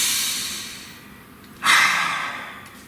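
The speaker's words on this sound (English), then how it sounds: "Breathe." A person breathes slowly, a long soft exhale fading away, then a sudden stronger breath that trails off gradually. Close and intimate, no speech.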